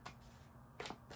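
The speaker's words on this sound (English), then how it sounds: "I'm going to just give the cards a little bit of a shuffle." Tarot cards are shuffled by hand in a brief, quiet riffle, with soft papery flicks near the start and a slightly louder ruffle at the end.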